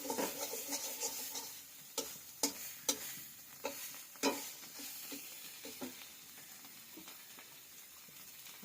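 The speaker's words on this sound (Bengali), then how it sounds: "এখন শুধু নাড়বো, নেড়ে নামিয়ে রাখবো।" Food is stirred in a pan, with a faint low sizzle and intermittent soft spatula taps and scrapes spaced irregularly, heard close and quiet, with no talking.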